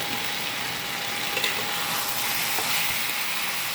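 Banana flower curry (mochar ghonto) sizzles steadily in a hot pan while being stirred. A constant loud hiss carries a few scraping touches, with no talking.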